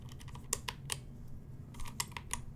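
NovelKeys Silk and Dry keyboard switches clack as keys are pressed, with sharp, rattly clicks in small irregular clusters, close and otherwise quiet.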